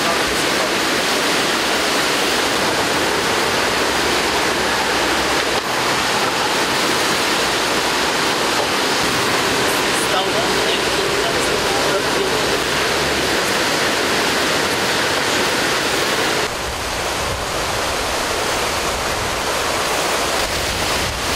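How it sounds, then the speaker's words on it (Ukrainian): A flooded river near a pond in Kolomyia rushes turbulently, a steady loud broadband roar of churning water filling the whole stretch with no voices. "річка таки розлилася і стала бурхливою"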